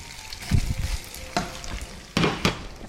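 Pasta with chicken and bacon is tossed in a hot pan. It gives a soft sizzle broken by several sharp scraping and clattering bursts as the food is stirred and flipped, close by and with no talk.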